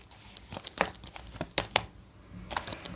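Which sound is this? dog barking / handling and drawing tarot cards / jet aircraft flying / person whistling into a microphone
handling and drawing tarot cards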